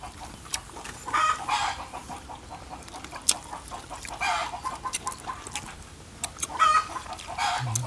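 Chickens and roosters cluck repeatedly in irregular bursts at a rural Thai home, with short crowing notes mixed in, at moderate distance over faint outdoor background.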